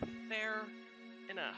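A pet cat meows several times close by, drawn-out tonal cries, with a person speaking briefly in the room, in a home kitchen.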